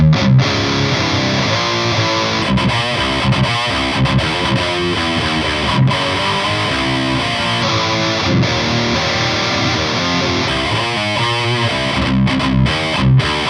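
Distorted electric guitar played through a Fryette speaker cabinet, a dense, continuous saturated riff with chugging low notes and bright sizzling highs, loud and steady with no talking.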